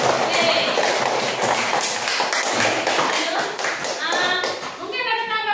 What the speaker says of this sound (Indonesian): Mari kita berikan aplaus untuk kelompok B.